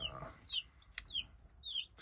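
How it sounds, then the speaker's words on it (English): Cornish cross baby chicks raised as meat chickens peep in a series of short, high chirps, about four separate calls spread evenly, close and fairly clear over faint background noise. "The baby chicks, you could call them peepers, are right here."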